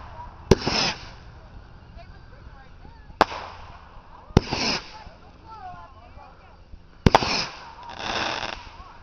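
Fireworks going off at close range, with four sharp launch cracks followed by crackling, sizzling bursts, while people talk throughout.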